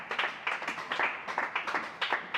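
A church congregation claps in a steady rhythmic beat to acclaim God, dense overlapping hand claps filling the space at close range with no talking.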